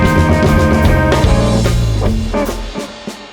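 Electric bass plays a blues intro built from the last four bars of the tune, with a steady walking low line and harmonic overtones, close and clear, no talking.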